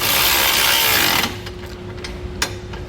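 Power wrench tightening bolts on a B and W fifth wheel underbed kit in a 2022 Ford F-250 Super Duty bed, a loud buzzing whir for about a second, then quieter metallic clicks.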